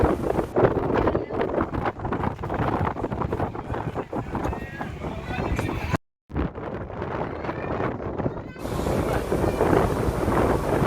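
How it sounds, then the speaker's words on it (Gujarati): Strong wind buffets the microphone on the Sudarshan Setu bridge, a loud continuous rumbling roar broken by a brief cut, with voices faintly underneath. "બ્રિજ ઉપર પવન પણ ખૂબ વધારે લાગતો હતો"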